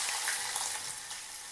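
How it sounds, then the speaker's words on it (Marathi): Mustard seeds, asafoetida, cumin and broken dried red chillies sizzle in hot oil as a tempering for spinach dal, giving a steady, close, crackling hiss with no talking. "तेल गरम झालेलं आहे, राई टाकायची, थोडं हिंग, अर्धा चम्मच जिरे, वाळलेली मिरची तुकडे करून घेतलेत, अशी कडकडीत फोडणी द्यायची"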